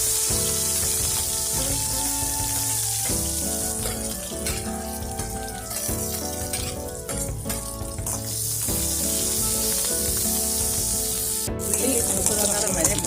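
Loud, steady sizzling of onions frying in hot oil, continuous for the whole stretch, with music playing in the background.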